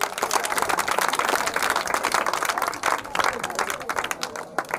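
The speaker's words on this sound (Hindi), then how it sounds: "खुद के लिए ताली बजाओ।" Schoolchildren at a government school clap for themselves, a dense, steady patter of many small hands lasting several seconds, close and fairly loud, with a slight dip partway through.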